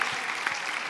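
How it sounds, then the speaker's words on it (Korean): Brief burst of audience applause at an environmental forum special session as a guest actor is introduced, a dense, fairly loud clapping wash lasting under a second. "큰 박수 한번 부탁드리겠습니다."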